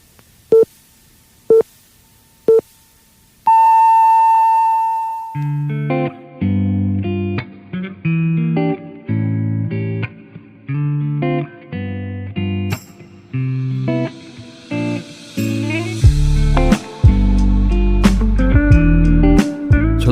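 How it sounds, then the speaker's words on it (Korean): An old PC dial-up modem connects for a 1990s Korean online service: three short dialing beeps, a steady tone, then a long sequence of warbling, shifting handshake tones that grow into harsh, buzzing noise, loud and alone. "전화 다이얼 소리가 울린 뒤 모뎀의 힘겨운 신음 소리가 끝나면"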